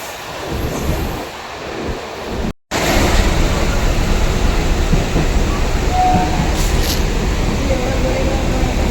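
Steady rumble and rattle of a moving Mumbai local train carriage, with wind buffeting and murmured voices in the background, broken once by a brief dropout.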